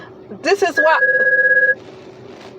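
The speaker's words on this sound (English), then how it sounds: "Sorry, that's my phone ringing." A phone rings with a steady electronic tone lasting about a second, sounding right after a person speaks and followed by quiet.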